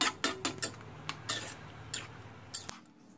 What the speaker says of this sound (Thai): ขั้นตอนสุดท้ายก็จะใส่ปูอัดลงไป